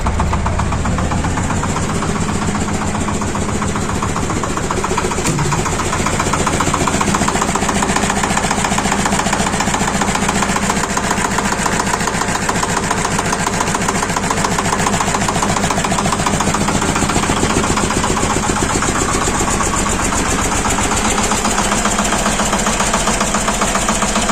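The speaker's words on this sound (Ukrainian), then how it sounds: "так працює зарізаний трактор" A Shifeng 240/244 mini tractor's diesel engine runs steadily at close range, a loud, even knocking rumble throughout with no voices.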